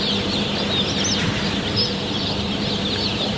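Baby chicks on a chick-sexing operation in Balıkesir keep up a dense, continuous chorus of high peeping, many birds at once, steady and fairly loud with no talk.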